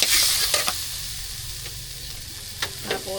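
Corned beef frying in a pan at home for breakfast, a steady close sizzle broken by several scraping stirs of a utensil, no one speaking.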